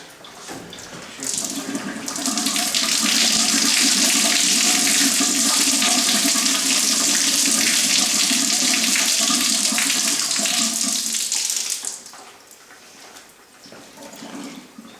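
Water rushes steadily from the drain valve of a gas water heater being emptied during installation, a loud continuous splashing flow that starts abruptly, holds for about ten seconds, then drops away to a quieter trickle.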